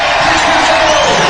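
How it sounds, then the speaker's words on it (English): A capacity crowd of about two thousand in a basketball arena cheers loudly during a BBL Championship game, a dense sustained roar with whoops, filling the whole short moment. "you can hear what the crowd have got to say about it."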